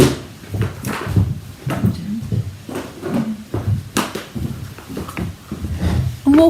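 A drawer is opened and rummaged through at a craft desk, giving a string of nearby clunks, knocks and rattles at an irregular pace, with brief gaps between bursts.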